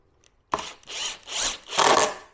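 Close drill buzz driving 2-inch screws into wood for a pool-deck towel rack, three short rising bursts after a brief pause.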